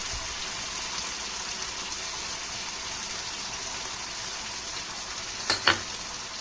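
Spices for a koi fish curry, cumin and ginger among them, fry in a pan with a steady, moderate sizzle and a couple of brief clinks near the end.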